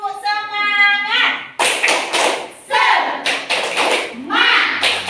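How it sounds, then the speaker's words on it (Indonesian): A classroom group does a rhythmic spirit clap, sharp claps and thumps in bursts with children chanting along, following a teacher's call. "Tepuk semangat dulu biar semangat"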